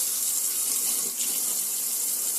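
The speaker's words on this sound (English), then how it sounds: "you can run the water through on the cold side and the hot side, releasing all the air" A campervan tap runs hard and continuous, water and spluttering air pushing through the freshly filled system as a bright, steady close-up rush with no talking.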